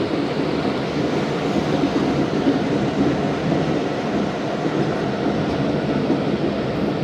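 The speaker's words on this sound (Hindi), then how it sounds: "रात के 1:25 पर 200 ट्रेन का अराइवल हुआ है रायवेंड जंक्शन।" The Musapak Express makes a loud, steady rumble and roar as it arrives at Raiwind Junction at night, a continuous heavy rolling noise with no break.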